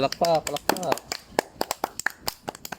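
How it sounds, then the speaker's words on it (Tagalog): A small group claps in a loose round of applause, a string of distinct close hand claps following brief speech at the start. "Palakpakan natin. Palakpak."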